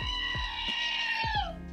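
A screaming goat novelty sound button plays a short, shrill, human-like bleating scream, loud and alone, with a few clicks around it.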